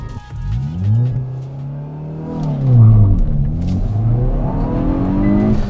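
A 2022 Hyundai i20 N accelerates hard without launch control, its engine revving up through rising sweeps, dropping briefly at a gear change, then climbing again, loud and close with no talk.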